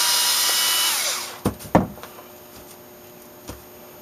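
Power screw gun whirring at the opening to back out screws from a Craftsman leaf blower carburetor, then dying away into short clicks and knocks of parts being handled.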